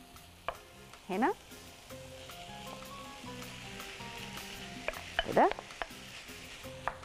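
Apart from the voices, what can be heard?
meat sautéing and sizzling in a hot pot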